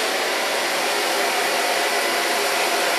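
Hair dryer blowing steadily and close at full volume throughout, a continuous broadband rush of air while a short pixie cut is blow-dried with ultra soft styling product, no voices.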